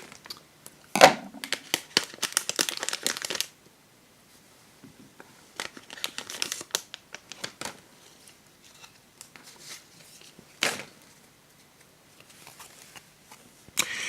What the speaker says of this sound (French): je secoue un peu le booster avant, comme ça, j'ai plus de place pour couper avec mon petit ciseau.